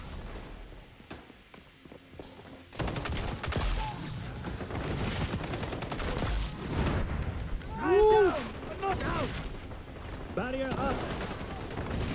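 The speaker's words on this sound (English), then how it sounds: "And I heard gunshots from outside." Gunfire in the online shooter XDefiant during a contested zone capture, with bursts of rapid shots and impacts over a busy battle mix, under some game voice callouts.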